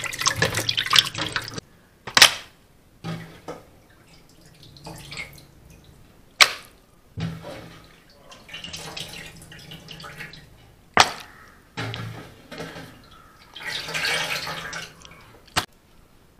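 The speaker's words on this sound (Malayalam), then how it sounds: "അഞ്ച് വെള്ളത്തിൽ നമ്മൾ ലിവർ കഴുകിയെടുത്തിട്ടുണ്ട്." Raw liver is rinsed in water in a kitchen, with splashing bursts and dripping separated by quiet gaps, sharp sloshes and clatters recurring irregularly, close and moderately loud.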